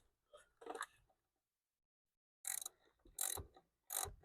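A ratchet tightens a plastic part on a Toyota Highlander engine in several short, quiet bursts of quick clicking separated by pauses, with no talking.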